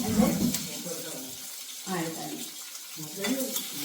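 Ripe plantain (ethapazham) sautés in a pan for Kerala pulissery, a soft hissing sizzle with stirring scrapes under a speaking voice that comes and goes.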